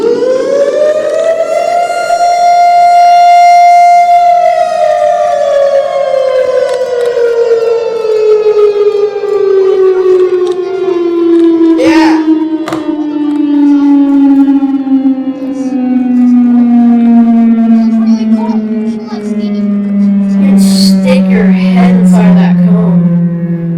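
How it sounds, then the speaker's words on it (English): An old tornado siren winds up to a loud, close wail that holds, then slowly sinks in pitch over about twenty seconds, with a few clicks and knocks along the way and no talk over it. "here's next is a Tornado Siren,"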